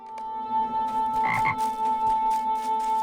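A frog croaks in the Lord of the Rings Online video game, a short raspy double croak in the middle of a steady tonal drone, fairly close and clear, with no talking over it.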